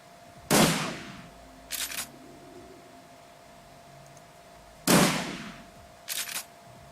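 Enemy gunfire in the tactical game Shadowrun Returns at Pike Place Market: two sharp, loud shots about four seconds apart, each trailed by a quick double burst, over a low steady hum, with no talking.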